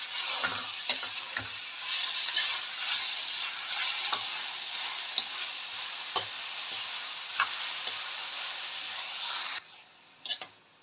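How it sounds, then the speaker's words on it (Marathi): Grated pumpkin sautés in a pan with a steady close sizzle, broken by scattered scraping stirs before the hiss cuts off near the end; no one speaks. "आता हा किस आपल्याला न धुता न स्वच्छ करता, म्हणजे अगोदर मी धुवून घेतलेला होता भोपळा, त्यासाठी मी आता हे असं याच्यामध्ये 5 मिनिटासाठी याला असं परतून घेणार आहे"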